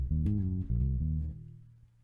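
A bass guitar plays a short intro phrase from a gospel song, with a few deep, sustained notes in sequence that decay toward the end, close and clear with no talk.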